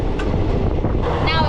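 Open-door breeze rushing past a moving train in India, a steady broad wind roar with rumbling rail noise underneath, loud and continuous throughout, with brief voices mixed in.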